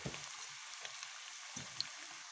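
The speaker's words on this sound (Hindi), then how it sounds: "ऑयल हीट हो गया है अब इसमें रोल्स डालेंगे मीडियम फ्लेम पर इसे कुक होने देंगे" Cauliflower rolls fry in hot oil over a medium flame, a faint, soft sizzle with scattered small pops and crackles.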